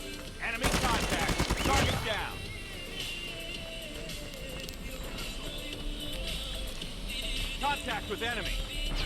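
Video game gunfire comes in a dense burst of rapid shots near the start, then softer sporadic shots and game noise follow while players chatter excitedly.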